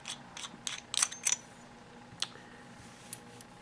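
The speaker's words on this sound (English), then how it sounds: "here's your tank section, which unscrews" Tank section of a Tobeco Aqua Clone atomizer being unscrewed, giving a few short metallic clicks and gear-like ticks close by, clustered early and then sparse, with no talk.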